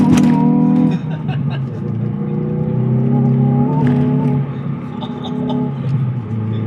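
Hyundai i20N hot hatch engine with its pops and bangs mode on, a loud, close drone that rises and falls in pitch through gear changes, with crackles and short bangs, a voice talking faintly underneath.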